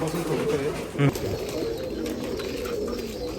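An old Gauran pigeon gives low, soft coos close by under steady background noise, with a brief louder note near the one-second mark.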